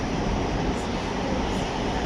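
An Indore metro train pulls into a station platform with a steady, loud rumbling roar that stays constant and close, with no talking over it.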